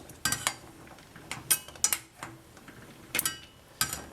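Metal tongs reaching into a pot of boiling water to lift out canning jar lids while making dill pickles, sharp close clinks and taps spaced irregularly, with no talk.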